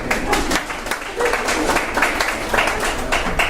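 An audience claps at an Eagle Scout court of honor for Troop 511, a lively burst of many hands applauding together, fairly close and steady throughout.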